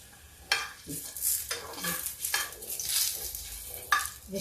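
Potatoes frying in a pan for a crisp fasting-day aloo chaat, a soft sizzle broken by several scraping stirs of a spatula against the pan, close up and without talk.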